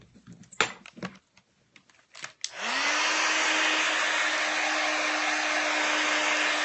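A hair dryer blows on gesso and paint spread over an art journal page, switching on after a few light taps and clicks, then running as a loud, steady whir close by.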